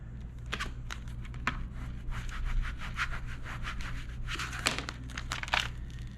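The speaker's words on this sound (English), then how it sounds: "Just keep dropping it down, give it a little rub." A chrome vinyl decal being rubbed down onto a surface: steady close crinkling and rubbing strokes in quick repeated bursts over a constant low background hum.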